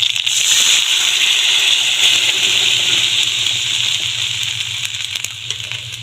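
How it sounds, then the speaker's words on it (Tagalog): Water is poured into a pan of fried fish for misua, a loud close sizzling hiss that is strongest at the start and slowly eases, with no talk. "Lalagyan ko na ng tubig."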